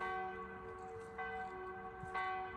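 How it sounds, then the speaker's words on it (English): A church bell in the French wine region countryside rings with resonant, sustained tolls. Fresh strikes land about once a second, each one rich in ringing overtones, with nothing else over it. "I hope you can hear the bell ringing."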